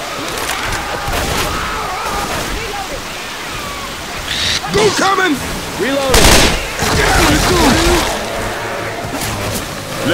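Gunfire rattles in Left 4 Dead 2 during the Hard Rain town escape, with sporadic shots and bursts amid steady rain, while characters talk over the action.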